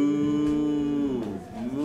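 A human voice imitates a cow, drawing out a long, low mooing sound and then a second shorter moo.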